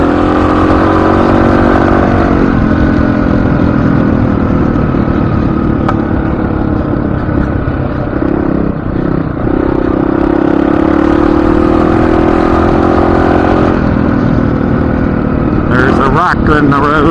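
Motorcycle engine running steadily while riding on a road, a continuous loud drone with shifts in pitch and a brief revving change near the end, with voices talking over it.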